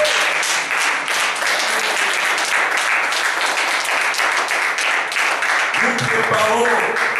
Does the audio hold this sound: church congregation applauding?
yes